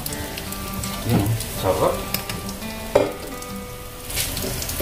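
Fish and shrimp fry in hot oil with a steady, close sizzle and crackle, with a few louder bursts as pieces are stirred, while a voice speaks briefly over it.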